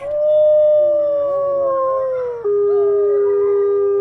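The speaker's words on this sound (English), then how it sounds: "Some of our wolves actually howl a little bit less wolfy than you would expect." Wolves howling together at a wolf sanctuary, long sustained mournful tones that slide and waver, one voice dropping in pitch as others overlap, loud and close.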